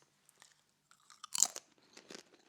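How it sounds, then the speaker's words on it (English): Crunchy sweet plantain chips bitten and chewed close up, a few sharp crisp crunches with one loud burst in the middle, then softer chewing in near silence. "Plantain chips, sweet plantain chips."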